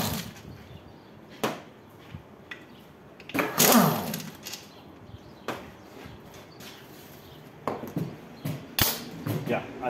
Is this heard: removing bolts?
yes